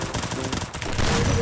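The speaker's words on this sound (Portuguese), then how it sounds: "Para de atirar em mim!" Rapid bursts of automatic gunfire from a video game shooter match, loud and dense, rattling continuously across the whole stretch with no talk over it.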